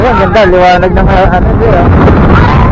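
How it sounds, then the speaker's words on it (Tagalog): Heavy wind buffets the microphone with a low, rumbling roar while a person speaks over it. "Ang lakas ng hangin."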